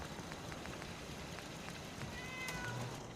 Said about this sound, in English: Meow! I forgot about the cat.